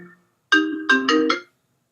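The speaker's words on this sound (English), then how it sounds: "I just got a phone call." A phone ringtone for an incoming call plays a short, bright electronic melody of about four tones, loud and close, then stops into silence.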